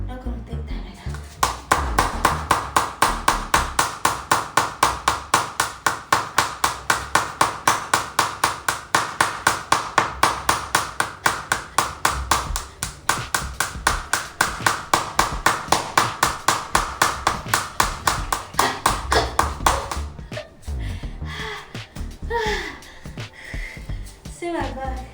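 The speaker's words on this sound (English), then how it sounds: "Let's clap. Last clapping." Hands clapping during a belly massage exercise, a long fast steady run of sharp claps that goes on for about twenty seconds before stopping, close and loud, followed by a few scattered softer sounds.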